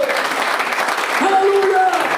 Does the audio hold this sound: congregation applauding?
yes